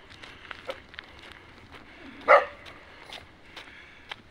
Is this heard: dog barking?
yes